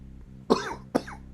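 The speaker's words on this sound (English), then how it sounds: "Allergy cough, okay." Two sharp coughs about half a second apart, close and loud, over a faint steady hum.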